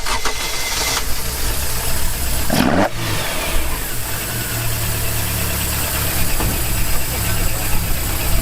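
Toyota AE86 Initial D tribute with a 1.7L engine on individual throttle bodies cranks and fires, a sharp burst around three seconds settling into a loud, steady idle, with voices and background noise throughout.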